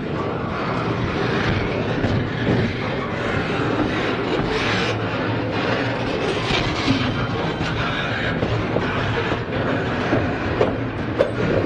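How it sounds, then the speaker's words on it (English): A freight trash train rolls steadily past in the Bevier St. Yard, its cars rumbling and clattering close by in one continuous, loud wash of rail noise with no pauses. "I think this is all trash train."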